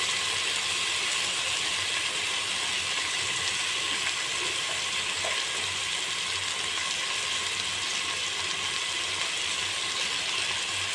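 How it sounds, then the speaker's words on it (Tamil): Tomatoes with salt and turmeric sauté in a pan with a soft, continuous sizzle, a faint, even crackle carrying on alone throughout. "தக்காளி நல்லா வதங்கட்டும்"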